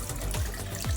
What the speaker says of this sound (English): now I'm just going to gently rub it underneath the water